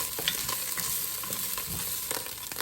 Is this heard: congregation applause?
no